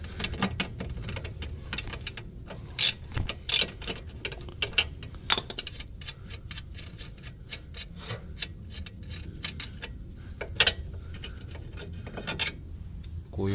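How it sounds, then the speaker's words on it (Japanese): Tools work on the rear stabilizer link of a Subaru WRX STI VAB, giving sharp, irregular metallic clicks and ratcheting taps over a low background rumble, close by and with no voices. "じゃあリアもまずスタビリンクから取っていきますね"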